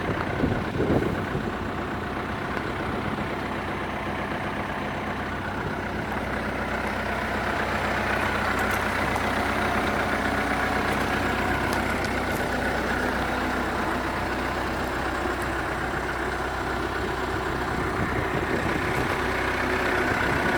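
A 2002 Manitou MLT 633 telehandler with a Perkins engine runs steadily, a deep continuous diesel rumble heard close and unbroken for the whole stretch, with no talking.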